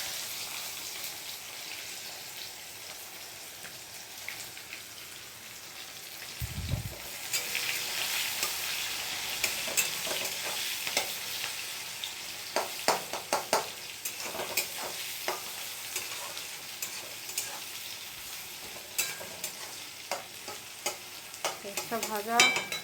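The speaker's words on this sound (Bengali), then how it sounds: "আগে পেঁয়াজটা ভেজে নেবো।" Onions frying in a pan for a red meat curry after cumin is added, with a steady sizzle that grows after an ingredient drops in, and a spatula stirring and scraping in sharp, irregular clicks toward the end.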